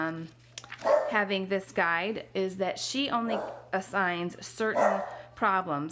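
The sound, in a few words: dog barking indoors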